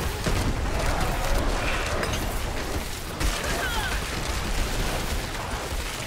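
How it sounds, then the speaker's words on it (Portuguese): Gunshots echoing inside a cave in Diablo 4, a dense, loud, continuous barrage of reverberating blasts and booms with a brief jolt partway through. "dentro dessa caverna meus tiros repicam muito"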